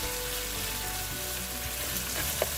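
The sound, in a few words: cooked pork sizzling as it is reheated in oil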